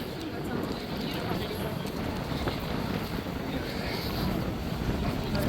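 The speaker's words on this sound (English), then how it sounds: "Oh, it's windy here." Gusty wind buffets outdoors on a street in central London, a continuous rough rumble close to the microphone with faint background bustle and no clear speech.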